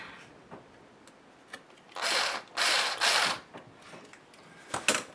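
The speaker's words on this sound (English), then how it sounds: "Now I do have a screwdriver here I can double check my work with." A screwdriver ratchets while turning screws on a Snap-On MT2400 unit, giving three close, loud clicking bursts in a row followed by a brief double burst at the end, with no talking.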